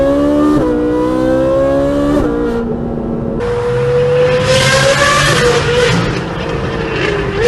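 Ferrari 458 with straight-piped exhaust revs hard and loud, its high-pitched V8 wail climbing, dropping between blips and surging again into a raw, crackling scream at close range.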